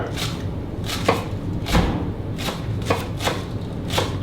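A knife slices spring onions thinly at an angle on a board, giving crisp, evenly spaced chops close up with no talking.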